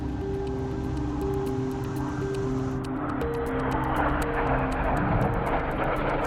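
A Red Arrows jet flies past, a steady loud roar that swells and brightens toward the end, heard alone with no talking.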